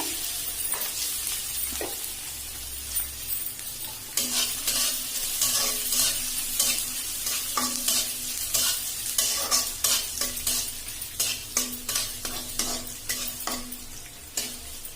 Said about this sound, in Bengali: এবার আমি এক একে গাজর কুচি দিয়ে দিচ্ছি।